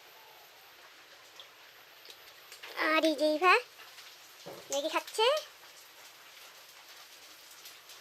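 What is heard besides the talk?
rain falling outside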